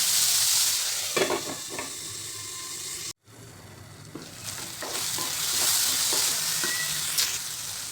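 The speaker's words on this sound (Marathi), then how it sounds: "टोमॅटो आणि शिमला मिरची छान शिजलेली आता बऱ्यापैकी" Tomato and capsicum cooking in a pan for paneer bhurji, heard as a steady close sizzle broken by spatula stirs and scrapes, with a momentary cut to silence partway through; no talking.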